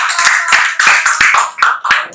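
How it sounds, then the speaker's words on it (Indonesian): A classroom group claps for a presenting discussion group in a short burst of uneven, fairly loud applause, hands striking in a loose rhythm before the clapping tapers off. "Tepuk tangan dulu."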